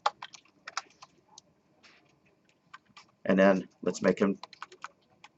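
Sharp, rapid clicks of a computer keyboard being typed on during a programming lecture, in short irregular bursts, with someone speaking briefly over them.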